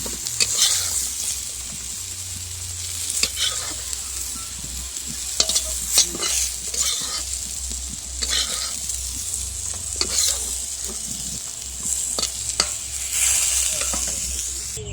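Pointed gourd frying in a pan crackles with a continuous sizzle, and spatula scrapes and stirring clatters break in at irregular intervals over a low background hum in a village-style kitchen.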